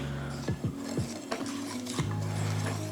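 All-purpose flour and other banana pudding ingredients stirred together in a bowl, with a quick run of utensil clinks and scraping knocks against the bowl over a steady background hum, and no talking.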